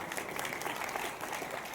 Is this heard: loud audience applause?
yes